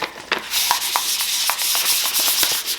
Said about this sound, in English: when you get it like this and you sand it